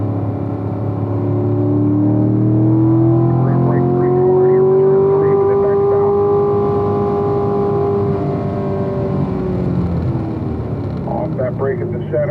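A Corvette race car's engine winds up under acceleration on a racetrack, a loud, close, rising whine that climbs steadily and then eases, with someone talking throughout over the engine.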